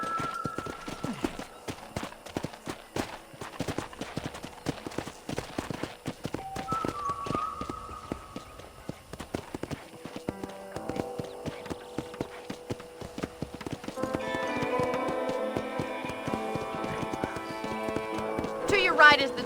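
Rapid, rhythmic horse hoofbeats gallop steadily in Red Dead Redemption, with game sound effects and music building toward the end, loud and close.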